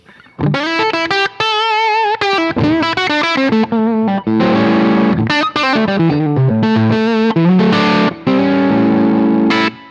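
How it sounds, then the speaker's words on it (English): Distorted electric guitar, a Strandberg Boden Essential on its bridge pickup with volume full up, plays an expressive blues lead with bent notes and quick phrases, loud and close, with brief gaps between runs. "If I go to the bridge pickup with the volume knob all the way up"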